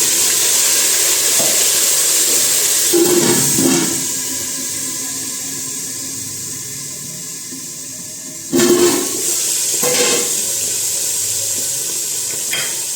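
Tomatoes tipped into a hot pan of oil with ginger and chilli for a dry potato curry give a steady, loud sizzle and hiss, with two sharper bursts as pieces land or get stirred.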